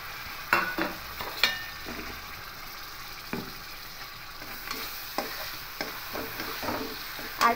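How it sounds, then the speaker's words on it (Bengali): Tomato paste frying in a pan with spices for ghugni, with a soft sizzle beneath sporadic sharp clinks and scrapes of stirring, close and fairly quiet, no speech. "এবার টমেটো পেস্ট করাটা দিয়ে দেব"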